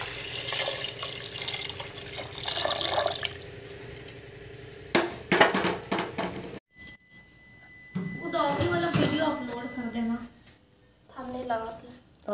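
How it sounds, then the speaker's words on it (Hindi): Water splashes into a cooking pot holding rice, lentils and washed potatoes, with a gushing pour broken by clinks and knocks of the pot, and someone talking over parts of it. "और अब इसमें पानी डाल देंगे,"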